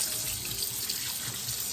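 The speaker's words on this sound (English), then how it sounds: "rinse this chicken off nicely with some nice warm water" Steady running warm tap water splashing continuously over a raw chicken in a sink, close and fairly loud, with no talking.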